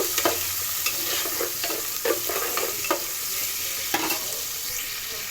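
Onion pieces frying in oil for paneer fried rice, a steady broadband sizzle with repeated scraping stir strokes of a spatula across the pan, close and fairly loud, no talking.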